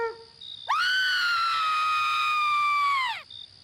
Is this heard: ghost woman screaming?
yes